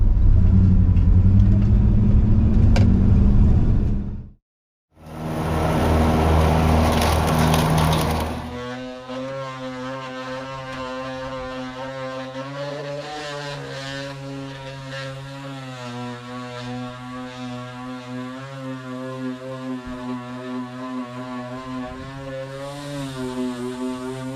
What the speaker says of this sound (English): let's run down here and see if we can get this lawnmower started